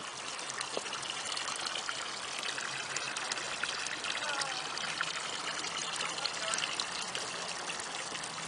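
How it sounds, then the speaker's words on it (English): Water from two garden hoses pours into a 4ft AquaDam kids' pool in Carlotta, California, making a steady, unbroken rushing splash that holds an even level throughout. "So the pool's filling up nicely with these 2 garden hoses."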